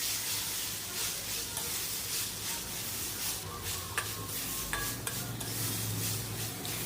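Masoor dal masala fries softly in a pan under a low, continuous sizzle, with intermittent scraping and light metallic clinks as it is stirred.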